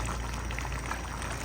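Bopis, a Filipino dish, simmers and reduces in a pan, giving a steady close bubbling hiss with no break throughout and no voices.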